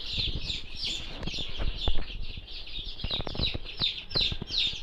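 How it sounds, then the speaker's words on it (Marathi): Dense, continuous high cheeping of many native Indian village chicken chicks peeping together, with soft scuffling and thumps underneath, close and lively. "ओरिजिनल गावठी कोंबडीची पिलं आहेत मित्रांनो ॲक्टिवनेस बघा पिलांचं कसं आहे"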